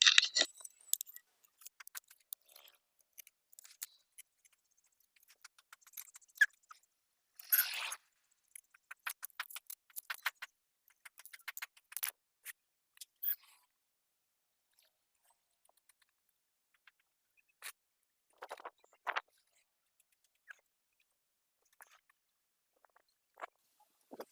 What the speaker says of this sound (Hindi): तो सारा बोल्ट टाइट कर देंगे